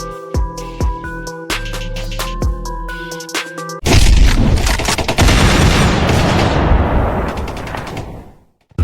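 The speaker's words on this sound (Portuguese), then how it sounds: "Aqui vemos o sargento Lincolnski manuseando a" Battle gunfire from the war film Fury, heavy bursts of automatic fire and blasts over a musical score, building into a dense, loud roar of shooting before cutting off sharply near the end.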